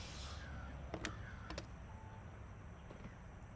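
Several crows caw outdoors at a distance, a few short calls scattered over steady low background rumble, with no talking.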